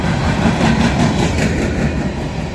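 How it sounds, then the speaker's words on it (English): A loud, close coal train rumbles past with heavy, steady rolling noise and faint rhythmic wheel clatter. "SCW8 coal train."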